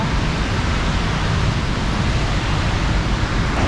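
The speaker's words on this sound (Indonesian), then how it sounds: "Hujan keras banget." A steady, heavy roar of downpour on a jammed Jakarta street at night, broadband and unbroken, loud and close with no voices.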